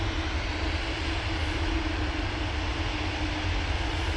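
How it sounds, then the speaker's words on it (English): A Ryanair Boeing 737-800 departs Manchester Airport for Rome, its jet engines producing a loud, continuous roar with deep rumble that holds steady throughout, with no voices. "Next out will be the Ryanair going off to Rome. They're using just 737-800 for that flight."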